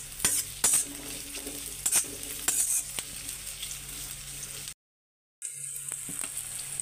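Onion and capsicum sizzle and fry in a pan for veg noodles, with a steady hiss and repeated sharp clinks of a spatula stirring against the metal, a brief dead gap, then the frying resumes.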